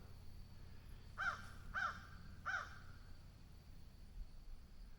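Three harsh crow caws at a dead pine tree along a forest hike near Buffalo River, Arkansas, spaced evenly about half a second apart and clearly audible over a quiet woodland background hiss.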